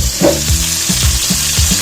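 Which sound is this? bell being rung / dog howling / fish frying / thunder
fish frying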